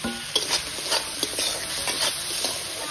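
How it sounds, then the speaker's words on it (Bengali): Fried katla fish heads are stirred into a pan of spices, with a steady frying sizzle beneath irregular scraping and stirring strokes of a spatula, close and moderately loud. "ভেজে রাখা মাছের মুড়োগুলো দিয়ে দিচ্ছি।"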